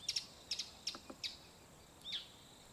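Birds chirp outdoors in a few short, high, faint calls spaced about half a second apart, ending with a single longer note, over quiet background.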